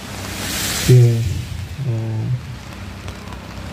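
Steady rain hissing over an outdoor rally, a constant wash of noise with brief voices rising faintly above it.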